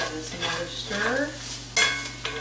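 Cauliflower and turkey bacon stirred in a pan, giving a steady sizzle with scraping strokes and a sharper clatter near the end, close up; no talking.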